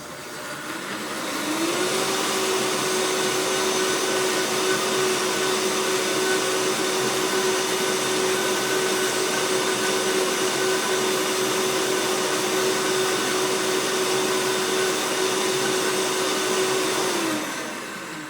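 A high-speed kitchen blender mixing spinach pasta dough starts up, ramps quickly to a loud steady whine that holds with a constant pitch, then winds down and stops.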